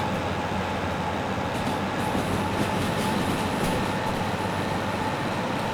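A DE6 diesel locomotive in the Derail Valley game pulls uphill at full throttle. A dense, loud engine roar mixes with rail rumble and faint wheel clatter, steady and unbroken, with no talk.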